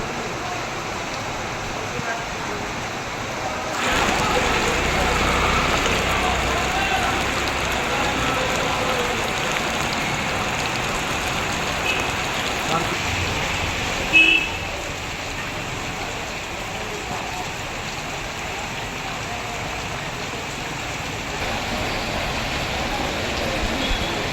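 Heavy monsoon rain falling at midday, a steady broadband hiss of downpour on surfaces that continues throughout, with a faint brief knock partway through.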